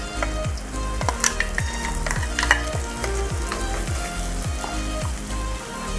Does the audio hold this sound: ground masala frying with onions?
yes